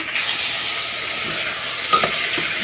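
Vegetables and boneless chicken sizzle in olive oil in a pot for garlic chicken soup, a steady close frying hiss throughout with a small stir knock near the end.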